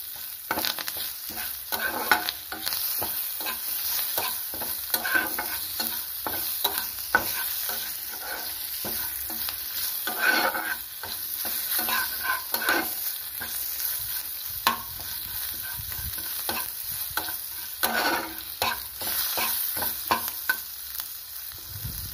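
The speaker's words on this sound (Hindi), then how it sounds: "ताको ये तड़का देदेबा।" Whole spices and dried red chillies tempering in hot oil for an Odia dahi baigana tadka, giving a steady close sizzle and crackle with bursts of popping and occasional stirring scrapes throughout.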